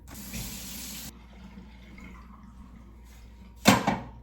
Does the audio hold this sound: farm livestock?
no